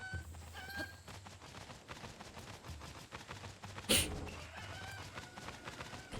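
Chickens cluck in The Legend of Zelda: Breath of the Wild, short game-style clucks repeating quietly among soft background sounds, with one sudden louder burst partway through.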